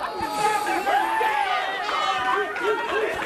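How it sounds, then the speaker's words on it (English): A lively crowd at a CHIKARA independent wrestling show, a steady wash of chatter, shouts and cheering voices all the way through, with louder swells at moments. "Pretty lively crowd here, actually."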